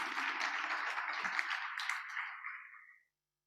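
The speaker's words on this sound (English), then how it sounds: "Let's all give them all a round of applause" Audience clapping at a Long Island MacArthur Airport and tourism business event, a soft, fairly distant wash of applause that tapers off and ends after about three seconds.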